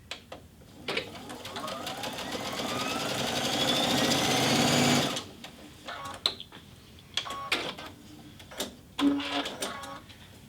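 Baby Lock Altair 2 sewing machine stitching a quarter-inch seam through fabric, a close, steady mechanical whirring run of about five seconds rising slightly in speed, followed by clicks, taps and short bursts of handling noise.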